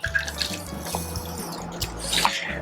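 Liquid trickles and drips as one ounce of lemon juice is poured for a sour cocktail, a short close splashing stream with a few small drops.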